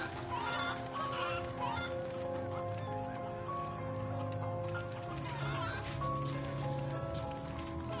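Chickens cluck in the PlayStation game MediEvil, busy fowl calls scattered over steady game ambience and background music, with a person talking over the sound.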